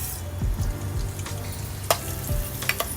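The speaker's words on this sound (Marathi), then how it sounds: "जिरा, कढीपत्त्याचं फोडणी दिल्यानंतर शेंगदाण्याला चांगलं भाजून घ्यायचं." Mustard seeds, cumin and curry leaves sizzle in hot oil while peanuts roast for Maharashtrian kande pohe. A steady close frying hiss runs throughout, with a few sharp crackles and stirring scrapes and no voices.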